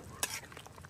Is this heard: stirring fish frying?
yes